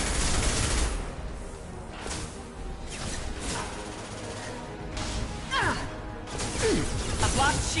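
Gunfire in the video game Mass Effect 2, a busy stretch of shots and impacts mixed with game effects and voices, with people talking over the action throughout.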